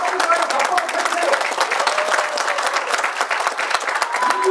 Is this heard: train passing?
no